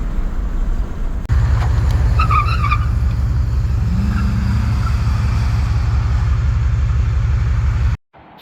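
A Chevrolet Tahoe cruises along with a loud, steady engine and road drone heard from inside, interrupted by a brief tire-like squeal partway through before the sound cuts off abruptly near the end.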